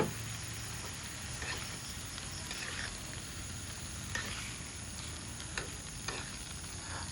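Soaked dal with bamboo shoots being stirred in a pan, a continuous soft sizzle with faint scraping strokes and occasional light taps, close and even throughout.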